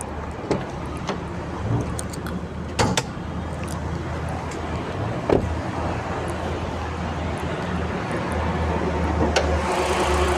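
The engine of a used green-and-yellow LPG taxi with injection runs at a steady idle, a continuous low rumble heard close with the hood open, marked by a few light knocks and clicks and no talking.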